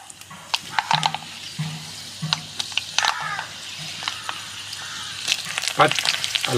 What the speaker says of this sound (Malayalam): വെളിച്ചെണ്ണ ചൂടായ കടുക് ഇടണു.